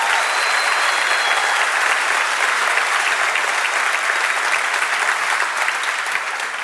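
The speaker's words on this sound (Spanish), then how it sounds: "den un aplauso más grande" A church congregation applauds in a loud, dense, sustained wash of clapping that runs steadily throughout, with a few faint voices mixed in.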